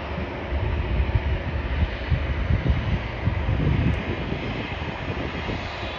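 American Airlines Boeing 777 jet departing, its engines giving a steady broadband roar with low rumble that holds near and loud, with no talk.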